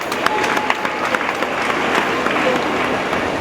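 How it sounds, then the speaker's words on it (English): An audience at a women's summit in Anambra State claps in a dense, sustained round of applause, close and even, with a few louder individual claps standing out. "I think we deserve a round of applause here."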